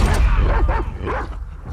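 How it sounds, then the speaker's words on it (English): A dog barks in the video game The Last of Us 2, giving a few close, sharp yips and woofs in quick succession over a low rumbling game backdrop, with some voice mixed in. "There's a dog."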